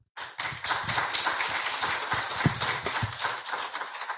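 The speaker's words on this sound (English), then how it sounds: "I'm going to ask that we give our panelists a round of applause." Panelists at a bar association summit receive a round of applause, a full burst of dense clapping that begins abruptly and continues steadily, with a few louder individual claps standing out.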